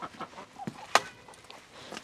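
Chickens cluck softly in short, scattered bursts, with one sharper, louder squawk partway through; fairly close and otherwise quiet.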